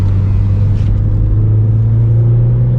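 A car engine pulling hard in second gear, a loud close drone with a steady low tone that climbs slightly as it accelerates.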